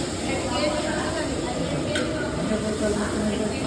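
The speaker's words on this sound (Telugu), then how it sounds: "ఉల్లిపాయలు, పచ్చిమిరపకాయలు, క్యారెట్స్ కావాలంటే వేసుకోవచ్చు, క్యారెట్స్ లేదంటే లేదు, అవి కూడా వేసేసి నీట్గా వేయించడం అయితే చేస్తున్నారు." Onions and green chillies frying in oil for bagara rice, a steady close sizzle and hiss of the pan running unbroken throughout, with light stirring scrapes and no clear talk.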